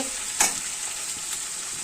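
Onions sizzle in hot oil in a pan, cooking down for biryani, a steady close hiss broken by a brief stirring clatter, no voices.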